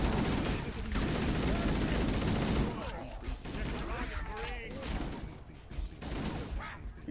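Sustained heavy gunfire in a Halo video game, dense rattling bursts continuing throughout with voices talking over the shooting.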